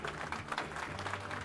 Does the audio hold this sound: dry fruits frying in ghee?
no